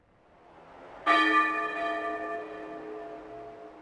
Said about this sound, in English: The bells are ringing in East Edge.